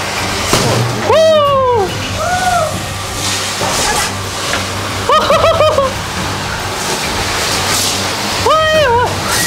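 A spinning firework fizzes and sprays sparks in a steady loud rush, with excited voices crying out in bursts over the continuous hiss.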